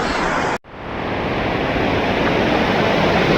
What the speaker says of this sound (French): on passe sur la cascade en fait